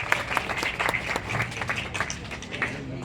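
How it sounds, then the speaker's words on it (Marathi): An audience at a superstition-eradication committee program in Godoli claps together in a brief burst of applause, scattered sharp hand claps blending into a steady patter at moderate distance. "टाळ्या वाजवा त्याच्याबद्दल."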